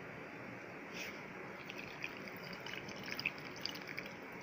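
Water with soaked fennel and spices being poured through a strainer for aloo paratha dough: a faint, steady trickle with a few small drips, quiet and close, with no talk.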